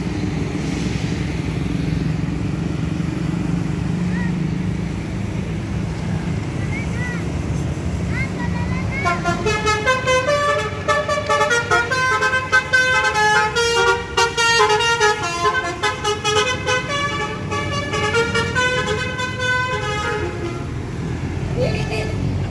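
An Aceh bus plays its telolet basuri horn, a loud rapid melodic run of bright tooting notes that starts partway through over steady engine and road noise, with people talking nearby.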